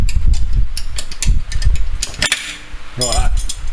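A spanner clinks and ratchets against metal while working on the rear brake of a supercharged L67 VY Commodore. The sharp knocks and scrapes are close and uneven, with one loud clank partway through.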